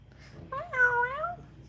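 A house cat lets out a single drawn-out meow, clear and fairly close, rising then falling over about a second against a quiet room with a low hum.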